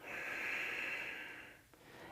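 A long, deep inhale during a lateral lunge stretch, a steady airy breath lasting over a second and a half close to the microphone, then easing off into quiet room noise.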